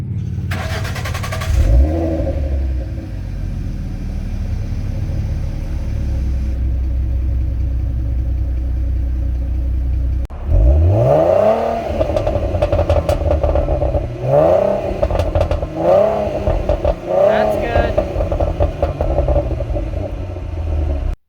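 A V6 Ford Mustang engine cranks and fires, idles with a deep rumble, then snarls through several sharp revs in quick succession, loud and close.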